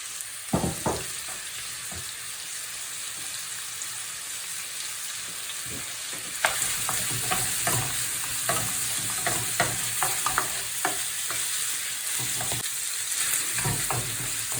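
Meat for a Lancashire hotpot searing in hot fat over a fairly high flame, a steady loud sizzle broken by the scrape and knock of stirring, growing busier partway through, with no talk.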